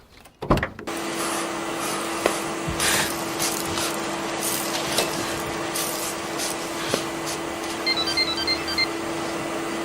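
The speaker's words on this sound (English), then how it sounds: "Vacuum the inside." A vacuum cleaner runs inside a car cabin with a steady loud hum, broken by scattered knocks and rubbing bumps as the nozzle moves around the interior.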